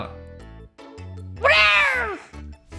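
A demon cat in the mobile MMORPG Tree of Savior: Neverland gives a loud, drawn-out meow that rises and then falls, lasting about half a second, over steady game music.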